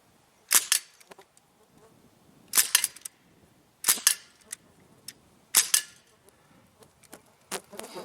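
Several sharp, distant gunshots from a Sig MCX rifle at an outdoor range, spaced a second or so apart, fairly faint, with light outdoor background between the shots.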